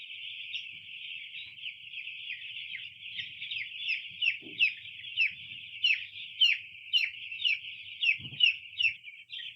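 A dense, steady chorus of high chicken calls during vaccination of hens, with the sound pulsing unevenly and a couple of soft low thumps nearby.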